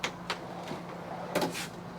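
Drawers in a 2022 Thor Challenger 35MQ Class A motorhome are pulled open, giving a few quick, close wooden slides and knocks, spaced apart, with no talking.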